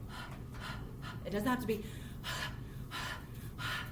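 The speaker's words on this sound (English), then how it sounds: "when you're teaching a patient to huff, it's like you want to fog up that mirror" Forceful open-mouthed huff breaths demonstrated for chest physiotherapy, a few breathy exhalations spread across the span with a stronger burst near the middle, close and clear, with a person talking in between.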